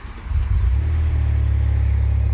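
Acura TLX Type S fitted with new downpipes, its exhaust giving a loud, close, deep rumbling drone that swells after a brief rev and holds steady.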